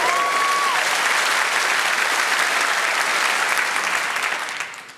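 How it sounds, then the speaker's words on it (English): Audience applause at a live comedy show at the Edinburgh Comedy Fest, 2014, during a card-shuffling act: dense, even clapping from a crowd that holds steady, then fades away in the final second. "Sometimes this gets a little pitter-patter of applause."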